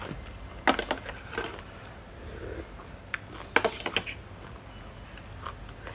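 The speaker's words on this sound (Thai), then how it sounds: "กินกุ้งพี่น้อง" Crunchy chewing of a spicy Thai lotus-stem salad with fresh shrimp, close and fairly quiet, with scattered bursts of crisp crunching and pauses in between.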